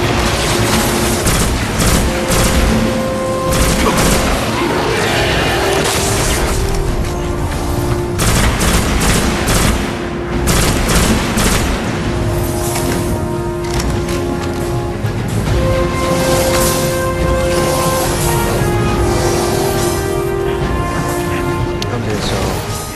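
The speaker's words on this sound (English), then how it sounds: "I'm gonna stop talking here so you can listen to the soundtrack." Sustained tonal game music from the Destiny beta soundtrack plays beneath dense, almost continuous gunfire, bursts and booming explosions of first-person shooter combat, loud and busy throughout the whole stretch.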